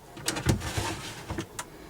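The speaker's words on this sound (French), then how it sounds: "avec une belle penderie que je vais vous ouvrir" A wardrobe door in a boat's cabin opening, with a few short clicks and knocks of latch and wooden panel over a soft background hiss, close and without speech.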